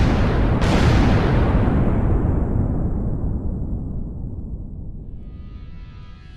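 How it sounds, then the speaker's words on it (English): A quarry rock blast goes off as one huge, close explosion, then rolls into a long, deep rumble that slowly fades over several seconds. "Only when the final all clear is given, blasting can commence."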